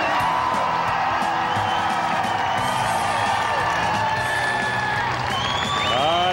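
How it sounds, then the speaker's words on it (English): A crowd at a 2006 Lima monster truck show cheers and applauds loudly and continuously, with whoops mixed in and voices blended into the roar. "The crowd really gets into this thing"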